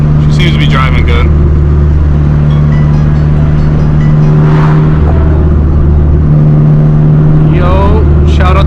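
A car with a K series engine drives along, making a loud, steady engine drone with road noise from inside the cabin, and voices are heard briefly over it.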